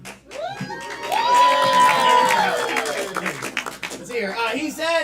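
A comedy club crowd cheers and whoops loudly as the host takes the stage, with sustained shouting and a voice rising above the roar.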